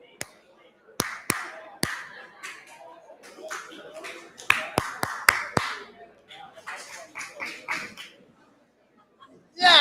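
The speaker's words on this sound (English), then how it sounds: "We'll try the clapping." A workshop group clapping together in loose, scattered bursts of sharp claps with brief gaps, close and uneven rather than in unison, with some voices in between.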